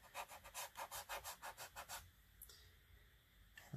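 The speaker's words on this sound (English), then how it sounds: "So I'm using that Q-tip just to scrub" A cotton swab scrubs oil paint off canvas in a quick, steady back-and-forth series of about ten soft rasping strokes, close and quiet, then stops into faint room tone.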